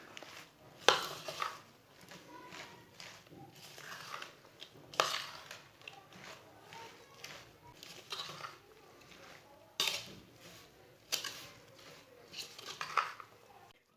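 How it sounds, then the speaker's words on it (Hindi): Shredded cabbage being mixed in a bowl gives scattered, irregular clinks and scrapes of a utensil against the bowl, fairly close and moderately quiet. "मिक्स की हुई पत्ता गोभी डाल लेंगे। इसे अच्छी तरह मिक्स कर लेना।"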